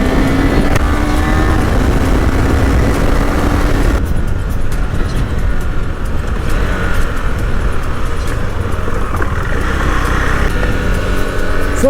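A KTM Duke 390 BS6 engine drones loudly and close as the bike rides off on a Sunday outing, with wind buffeting and a shift in tone partway through as it gathers speed.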